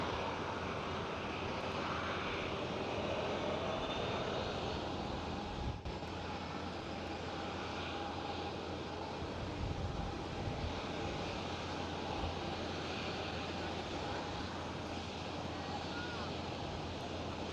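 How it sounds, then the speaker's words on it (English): Air China Cargo Boeing 747 freighter at Amsterdam Schiphol, a steady, broad jet-engine roar held for the whole stretch at moderate distance, with faint talk underneath. "First is 747 Air China Cargo."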